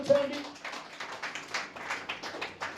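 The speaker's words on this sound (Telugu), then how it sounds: "గట్టిగా చప్పట్లు కొట్టి దేవుని కనపరచండి." A church congregation at a Sunday service claps loudly and rhythmically, a steady run of sharp hand claps in even time, with a brief voice at the start.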